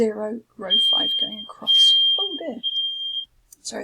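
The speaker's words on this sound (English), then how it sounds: "that was my fire alarm." A household smoke or fire alarm sounds one long, steady high-pitched beep for about two and a half seconds, loud and close, while a person keeps talking over it and apologises.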